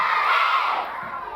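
A group of children at a religious celebration event shout together in one brief, loud burst of crowd cheering that quickly fades.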